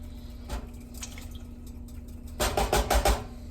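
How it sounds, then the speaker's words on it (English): Crushed and diced tomatoes added to a cooking pot, a soft wet plop early on, then a cluster of thick, sloppy splashes and glugs as the bulk pours in. "So we're now going to add the crushed tomatoes. And the diced tomatoes."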